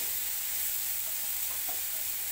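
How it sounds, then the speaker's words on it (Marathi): Onion, peanuts, green chilli, curry leaves and cumin frying in hot oil for upma, a steady close sizzle with occasional faint stirring sounds. "मी कांदा, शेंगदाणं, मिरची आहे, कढीपत्ता, जिऱ्याची फोडणी देऊन चांगला आता तेलात भाजून घेते"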